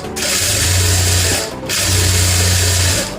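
A sewing machine stitching the hem of a pair of baggy pants runs in two loud, steady whirring bursts, separated by a brief pause, close up and with no talking over it.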